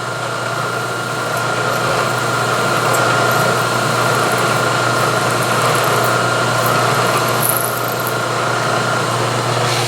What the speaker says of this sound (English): let's go ahead and drill that hole through.